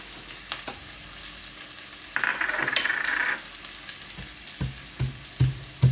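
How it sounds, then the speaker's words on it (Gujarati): Capsicum frying in oil in a pan, stirred with a spoon: a steady soft sizzle broken by a louder burst of hissing mid-way and several light clinks of the utensil against the pan, with no talking. "વચ્ચે વચ્ચે આપણે આ રીતે હલાવતા રહેવું 2 થી 3 મિનિટ"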